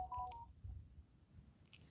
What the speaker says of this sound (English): So that's just a text message from a friend.